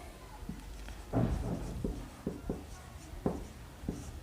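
Chalk or marker strokes on a classroom board during a maths lesson on linear equations, a run of short scratchy taps and scrapes spread across the moment, fairly quiet with room noise behind.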